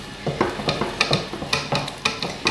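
A whisk beats choux pastry dough for double chocolate eclairs in a bowl, giving brisk, regular wet slaps and scrapes, close and fairly loud, with no talking.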